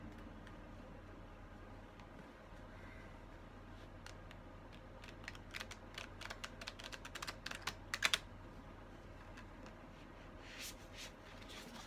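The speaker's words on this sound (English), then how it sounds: "this deck is hard for me to shuffle, so it takes me a little extra time" A deck of tarot-style cards is shuffled by hand, giving faint, rapid riffling and tapping clicks that build to a denser flurry midway through.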